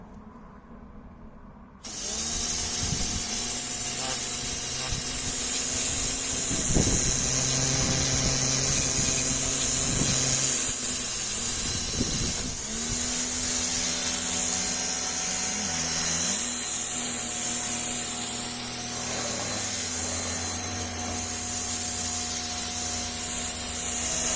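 An Aldi Ferrex 2.4 kW pressure washer with a turbo nozzle starts up and sprays in a loud, steady hiss under a droning motor. The pitch shifts slightly as the jet sweeps across a patio and wall surfaces.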